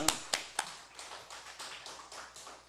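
A congregation at a Korean church revival night service claps: a few sharp, separate claps open, then the clapping settles into a softer, quieter rhythmic patter.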